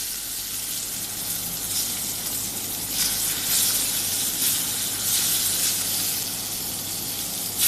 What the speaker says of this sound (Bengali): মাছগুলো দিয়ে দিলাম মাছগুলো একটু নেড়ে চেড়ে ভেজে